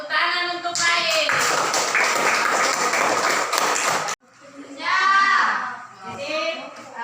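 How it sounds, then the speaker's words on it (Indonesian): Group clapping in a classroom during a teachers' lesson observation session, a dense burst of hand claps lasting about three seconds, with someone talking before and after it. "tepuk tangan untuk Baik"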